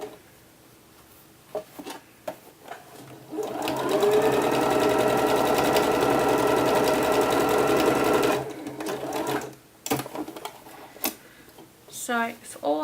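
Sewing machine stitching a sleeve onto the bodice of a peasant top, a steady loud mechanical whir running for several seconds mid-clip, with quieter handling and brief clicks before and after.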